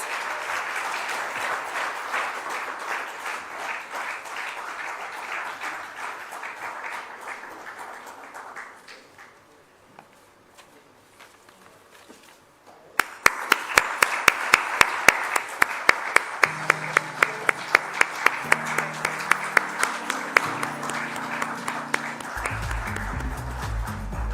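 An audience at an evening social entrepreneur award ceremony in India applauds an award guest. Steady, full applause runs for about nine seconds, dips briefly, then resumes with sharper, rhythmic claps over background music.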